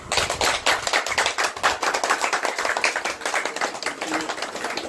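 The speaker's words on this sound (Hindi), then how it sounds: "तालियां बजाओ।" Guests clap at a ring ceremony with a dense, fast, steady round of close applause that lasts the whole stretch.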